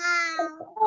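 A voice imitates a cat's meow at a school event, a single close, drawn-out mewing cry that trails off into a couple of shorter vocal sounds.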